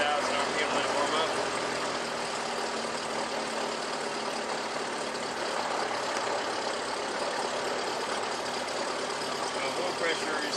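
An aircraft engine idling at about 1,000 RPM to warm up, a steady, loud, continuous droning rumble with no change in pitch across the whole clip.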